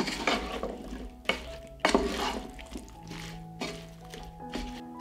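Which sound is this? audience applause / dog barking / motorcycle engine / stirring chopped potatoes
stirring chopped potatoes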